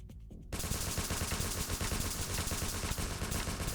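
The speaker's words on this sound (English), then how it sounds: "Can you stop shooting at me?" Rapid, sustained gunfire in the video game Entry Point bursts in after a brief quiet start, dense and loud shots continuing without pause.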